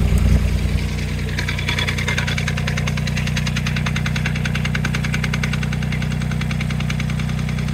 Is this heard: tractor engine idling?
yes